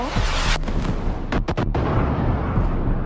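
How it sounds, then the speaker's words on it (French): Distant detonations over Dubai, a dense, continuous rumbling roar with a few sharp dropouts mid-clip, loud and broadband with no talk over it. "on a vu 6, 7 puis 8 détonations"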